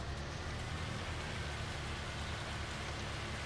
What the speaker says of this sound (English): Or is that just a really heavy rain?